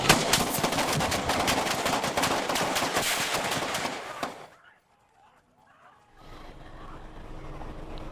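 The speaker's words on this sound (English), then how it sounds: "There was about 10 seconds of gunfire followed by some yelling." Rapid, dense bursts of Coast Guard gunfire at a U-Haul truck on a bridge in Alameda crackle for about ten seconds, then cut off abruptly into near silence before distant background noise returns.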